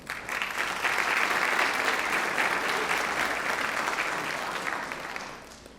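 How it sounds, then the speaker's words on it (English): Steady applause from a ceremony crowd honoring school board members, a full wash of clapping that starts at once and slowly tapers off over several seconds. "Let's give a round of applause"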